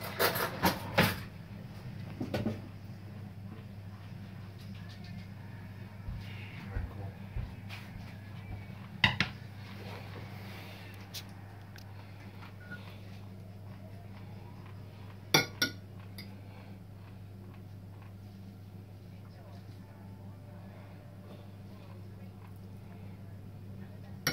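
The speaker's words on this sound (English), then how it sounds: "I'll just use a fork to dish this out." Fork dishing out spaghetti bolognese, faint scattered clinks and scrapes against a dish over a steady low hum, with sparse sharper clinks spread across the stretch.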